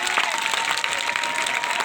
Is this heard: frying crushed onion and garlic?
no